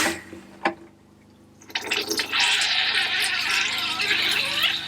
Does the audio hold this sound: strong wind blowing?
no